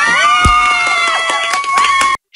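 An actress and her production team celebrate award nominations for the drama Light the Night, with loud excited screaming and cheering from several people close by and bursts of clapping mixed in, ending abruptly.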